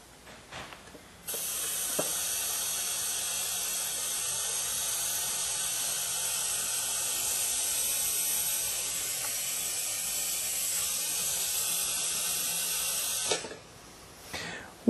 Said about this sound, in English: he's going to be vacuuming out the brake fluid from the bleeder nipple at the caliper